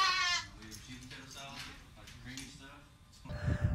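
Goats bleat in short wavering calls that come and go behind a voice, with a louder burst of noise at the end.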